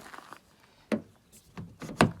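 A Ford Maverick's car door handle is pulled several times, giving short plastic clacks and thuds spaced irregularly, close by and fairly quiet, with no talking.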